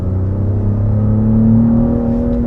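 A 2022 Cadillac XT5 with its V6 engine accelerating, a loud, steady low drone that climbs smoothly in pitch, heard alone without voices.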